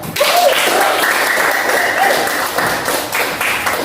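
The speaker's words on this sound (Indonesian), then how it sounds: "Oke, tepuk tangan dulu." A school class claps together in a dense, steady round of applause lasting several seconds, fairly close, with a few faint voices mixed in.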